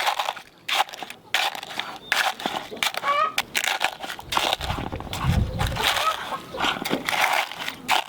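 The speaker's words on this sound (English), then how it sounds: "So I just get all the old shells, and then it's like when we cook eggs. This is from this morning's breakfast too. Just kind of smash them." Old eggshells from breakfast are smashed by hand, producing close, crisp crunching and crackling in bursts, with a person talking over the sound.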